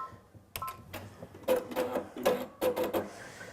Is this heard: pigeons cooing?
no